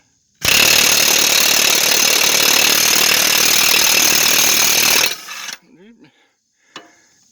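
A Craftsman cordless impact wrench roars loud and continuous for nearly five seconds while straining against a stubborn fastener, then cuts off, leaving a few faint clanks and rattles.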